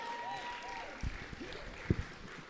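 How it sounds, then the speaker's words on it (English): A church audience gives a brief, modest round of applause for a volunteer, with scattered claps and some voices and tonal sounds mixed in. "Give Becca a big round of applause."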